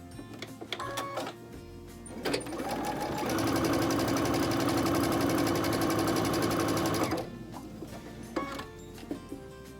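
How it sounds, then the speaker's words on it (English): Sewing machine running steadily for several seconds while stitching a quarter-inch seam on a wagon wheel quilt block, close and fairly loud, with quieter handling clicks before and after. "And then sew your 1/4 inch seam on that side."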